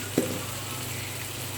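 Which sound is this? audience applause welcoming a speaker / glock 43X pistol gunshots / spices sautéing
spices sautéing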